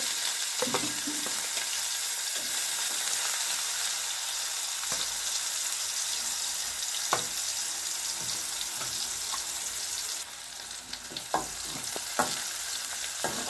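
Chopped onion sautés in hot oil with fennel, cinnamon and clove for a Chettinad chicken gravy, giving a continuous frying hiss broken by occasional spoon scrapes and clicks against the pan.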